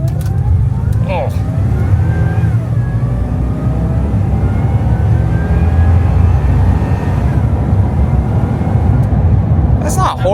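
A second-generation Toyota Tundra TRD Pro fitted with a Magnuson supercharger accelerates, its engine and blower roaring steadily and loud from inside the cab while people talk over it.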